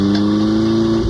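Simulated car engine hesitation with a slipping transmission, staged as a sound effect in a 1994 radio ad: a steady mid-pitched engine drone holds throughout, with a brief stumble and dip near the end, loud and alone.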